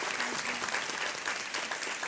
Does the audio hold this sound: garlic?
no